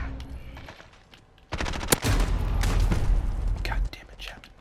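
MP5 submachine gun in Modern Warfare with its stock setup, fired in loud, rapid automatic bursts that run for a couple of seconds after a quieter stretch of game ambience, then cut off.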